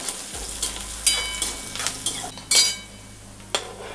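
Oil tempering in a kadai with cumin, mustard seeds, turmeric and green chili for avalakki, giving a steady close sizzle and frying hiss broken by sharp metallic stirring clinks and scrapes of a spoon against the pan.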